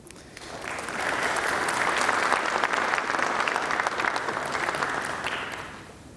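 An audience at a cultural gathering in Ankara breaks into warm applause, a thick wash of many hands that swells in over the first second, holds steady and loud, then tapers off toward the end, with no voices over it.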